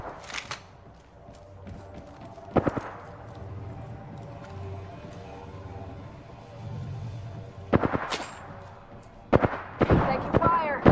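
Scattered gunfire in the video game Apex Legends, a few sharp bursts and distant thumps spaced through the stretch, mixed with game voice callouts and low background rumble.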